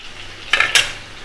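A spatula scrapes and stirs onions frying in a pan with jalfai for an Assamese meat dish, two short close scraping bursts over a low sizzle.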